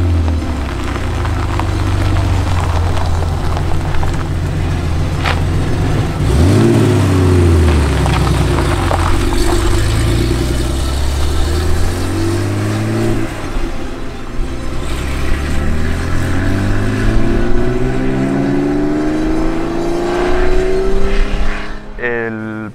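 A Porsche 911 SC, an ST conversion racing car restored from the family's original, revs hard while driving, its engine climbing and falling through repeated sweeping gear changes, loud and close for the whole stretch.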